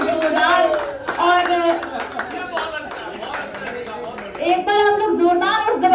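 At a Hindi poetry gathering, a crowd claps throughout while someone speaks loudly over the applause, the clapping steady and moderately close beneath her voice.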